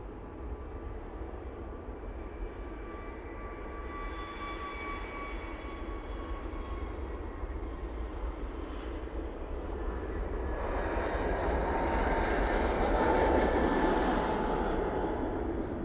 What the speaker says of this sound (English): you can probably hear we do have a departure. There's this Jet 2 with the half decals on.